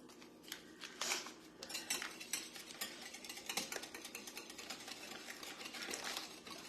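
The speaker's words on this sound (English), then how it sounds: "in the milk, and then we're going to stir it up" A spoon stirs instant pudding mix into milk in a bowl, giving faint, quick clicking and scraping strokes close by, with no talking.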